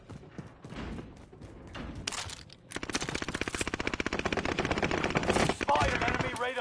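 Rapid automatic gunfire in the video game Warzone, a dense stuttering burst that starts after a brief lull and keeps hammering loud and close to the end, with scattered game voice lines beneath.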